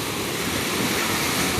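Strong beach surf rolls in a continuous broadband wash with a low rumble beneath, loud and unbroken with no voices.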